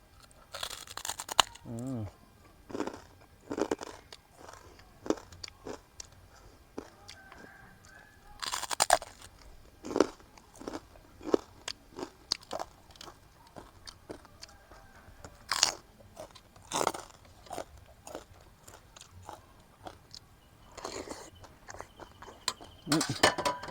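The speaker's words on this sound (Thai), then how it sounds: "ฟังเสียงแขบหมูเด้อ" Crispy pork rinds crunched between the teeth, close and crackly, in irregular bursts of loud bites and chewing with quieter gaps between them.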